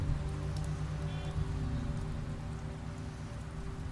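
Steady rain falling in The Wolf Among Us, a dense even patter that holds at the same level throughout, with no voices over it.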